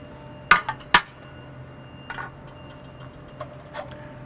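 Metal burner of a 54-inch American Muscle Grill being lifted out, giving a few sharp clanks and scrapes close by, two loud knocks early then softer scattered clinks.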